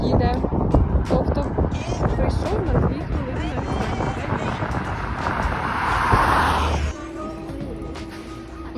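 A city bus in Germany rolls up to a stop, its engine rumble and road noise building over several seconds before dropping to a lower steady idle hum near the end.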